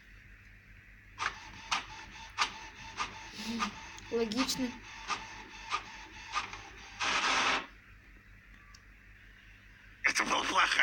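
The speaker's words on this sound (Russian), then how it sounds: "просто распечатаем себя на принтере" A home printer runs in short repeated mechanical bursts followed by longer feed-through passes, heard close up with a few spoken words and faint voice sounds mixed in.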